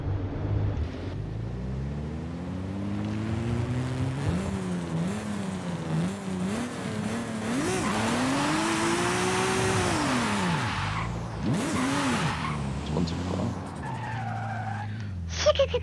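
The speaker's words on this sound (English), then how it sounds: "this BMW sounds so good" A BMW in the Forza Horizon 5 racing game, its engine revving up and down in long swooping sweeps while tires squeal and skid through drift slides, loud and continuous throughout.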